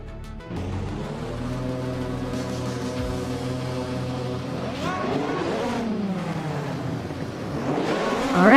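Race cars roar in a racing video game, including a 1988 EuroBrun ER188 at the Highlands track. A loud, steady engine drone holds close, with pitch sweeping up as revs climb near the end.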